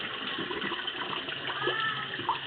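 Tap water runs steadily into a container while quinoa is rinsed, a soft, even splashing with small bubbling gurgles near the end.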